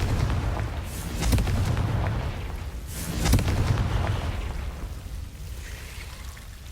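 Confringo fire spell blasts in the video game Hogwarts Legacy: two booming explosion bursts over a dense rumbling game backdrop, the second around the middle slightly stronger, then the din settles lower.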